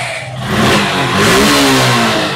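A used Suzuki Gixxer motorcycle in good engine condition revs loudly up close, its engine note rising and holding in one sustained, throaty burst.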